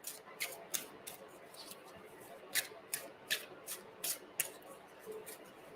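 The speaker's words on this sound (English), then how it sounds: "I'm going to shuffle again on this." Cards being shuffled for an intuitive reading, a string of crisp riffling bursts at uneven intervals, close and fairly quiet against a soft background.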